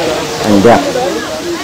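A mountain stream rushes over rocks at the Ba Vàng pagoda grounds in Vietnam, a steady broadband wash of water heard beneath a person speaking briefly.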